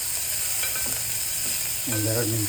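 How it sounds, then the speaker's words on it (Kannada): Radish sambar ingredients frying in a pan, a soft steady sizzle with faint scraping of stirring, quiet and close, while a voice speaks briefly. "ಸ್ವಲ್ಪ ಇದು ಚೆನ್ನಾಗಿ ಫ್ರೈ ಆಗಲಿ"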